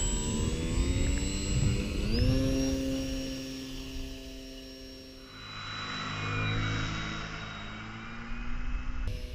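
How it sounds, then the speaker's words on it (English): An RC Fun Cub Storch model airplane's electric motor whines loudly up close during a stall takeoff, its steady tone rising in pitch, then the whine fades and swells as the plane moves away. "Let's try a stall takeoff."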